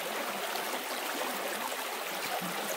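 Water rushes steadily down a 50-inch Vevor folding gold mining sluice, a constant close broadband wash with no talk.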